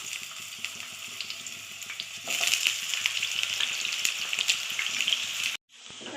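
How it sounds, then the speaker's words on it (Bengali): Sliced potatoes fry in hot oil, a close crackling sizzle that grows noticeably louder partway through before cutting off abruptly near the end. "তেল গরম হয়ে গেছে, আলুগুলো ভেজে উঠিয়ে নেবো।"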